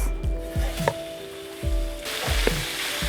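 Marinated prawns hit hot mustard oil and sizzle steadily, with a few knocks and scrapes of a utensil in the pan over the continuous frying hiss.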